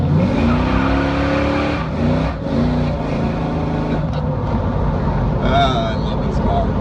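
A car drives along with a steady, close engine roar and road noise, its engine note rising and falling in pitch several times throughout.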